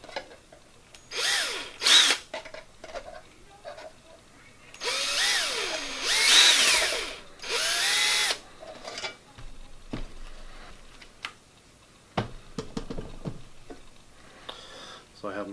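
A power drill bores holes through a metal can in short bursts, whining loud and close, with a brief rubbing sound between bursts.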